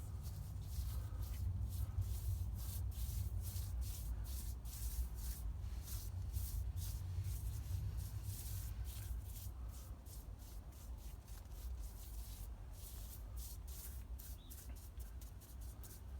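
Steady soft brushing of paint onto apple tree stems, a continuous scratchy rubbing with repeated strokes, close and fairly quiet with no talking.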